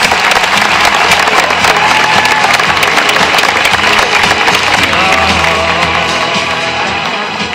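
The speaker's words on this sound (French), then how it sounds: "je pense qu'on peut applaudir bien fort" Audience at a sea lion show at ZooParc de Beauval, applauding loudly and continuously from a large crowd, dense sustained clapping with some cheering that holds steady throughout and eases slightly at the end.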